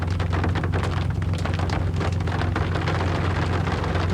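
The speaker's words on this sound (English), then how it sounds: "You hear that rain?" Steady rain pours down close by at a rest area, a dense hiss of drops pattering on surfaces without a break.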